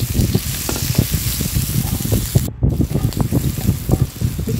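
Chili and garlic stir-fried in a hot wok over high heat, a loud continuous sizzle and crackle with steady scraping stirs throughout, briefly cut off midway.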